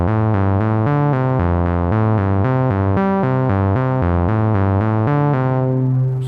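A modular synth sequence of short, evenly spaced notes steps through a repeating pattern at a steady tempo, loud and continuous, each step panned to the opposite stereo channel.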